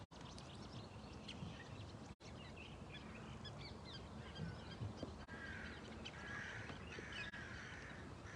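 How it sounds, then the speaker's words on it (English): Many birds call from several directions outdoors, scattered chirps and a few harsher, crow-like caws spread over a steady, moderately loud background of natural ambience, with no talking. "I just hear so many birds in so many directions right now."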